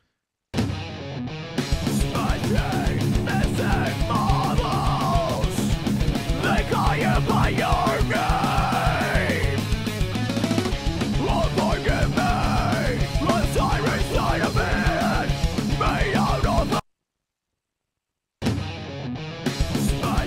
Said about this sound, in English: Let's loop this part and we'll work on the lead screaming vocal.